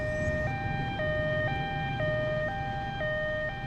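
A siren alternates between two pitches in a steady hi-lo pattern, switching about every half second, loud and continuous with no voices.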